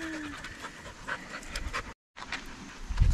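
A soaking-wet dog pants close by in quick, rapid breaths, with a brief gap midway before the panting resumes.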